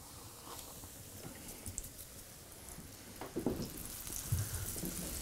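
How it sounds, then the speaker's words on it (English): Beef steak frying in boiling pork lard gives a steady close crackling sizzle with scattered pops, growing slightly louder near the end. "Boy, listen to that sizzle."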